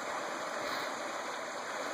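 A creek flowing beside a wilderness mining camp kitchen, a steady, even rush of running water, quiet and continuous with no voices.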